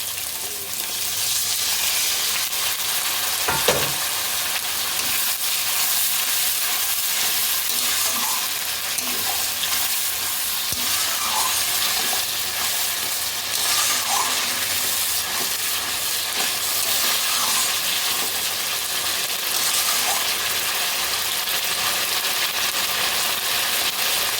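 Water is poured into masala frying in oil for a koi fish curry, and the pan gives a loud, continuous sizzle with steady hissing and occasional stirring scrapes.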